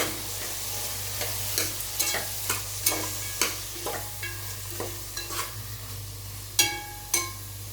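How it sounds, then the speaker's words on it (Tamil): Carrots and beans sauté in a pan for vegetable biryani, with a soft steady sizzle under repeated sharp scrapes and taps of a spoon stirring at an irregular rhythm. "நான் வந்து பீன்ஸும் கேரட்டும் சேர்த்துருக்கேன். இது நல்லா வதங்கட்டும்."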